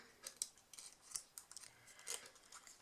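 Scissors snip through card stock while a shabby chic style card is being made, several quiet, separate crisp cuts spread across a few seconds, close up and alone.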